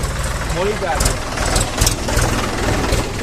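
A tractor loaded with bundled rice seedlings idles with a steady low chugging engine, close and constant, while a person talks over it.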